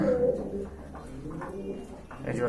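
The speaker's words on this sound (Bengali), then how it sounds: "এখানে কিন্তু বিগ সাইজের এক জোড়া সুন্দরী গিরিবাজ কবুতর রয়েছে" A pair of large Giribaj pigeons coo close by, low throaty repeated coos in a soft rolling rhythm, with faint background noise.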